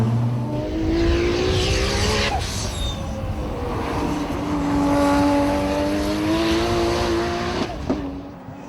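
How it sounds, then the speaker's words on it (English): A Nissan Skyline R34 GT-R engine revs loud and close, its pitch climbing and falling through sustained sweeps of throttle with no talking over it. "Turn up the volume and listen to the power."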